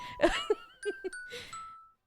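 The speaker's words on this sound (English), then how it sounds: "This is my first ever doorbell I ever made" Doorbell in Minecraft, a video game, sounding a soft two-tone ding-dong followed by a few more faint chime notes, quiet and alone with no talking.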